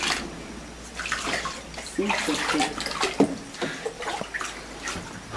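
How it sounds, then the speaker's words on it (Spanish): Very hot water is poured from a bucket onto a patient's body during hydrotherapy, sloshing and splashing in uneven bursts at close range, with a brief spoken word. "tengo en esta cubeta agua muy caliente. Entonces comienzo a aplicar agua más caliente en el cuerpo de la paciente."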